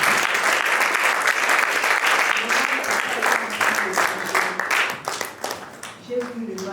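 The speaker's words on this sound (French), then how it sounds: "Nous allons d'abord acclamer très fort pour ces puissants." A church seminar audience in Belgium claps loudly and steadily in a dense, sustained ovation that fills the hall and tapers slightly near the end, with voices and cheering mixed in.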